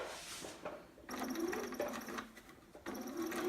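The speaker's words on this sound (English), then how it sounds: "I'm just going to straight stitch across" A home sewing machine runs a straight stitch across fabric below an elastic band on a child's romper, whirring in two close bursts with a brief pause between them.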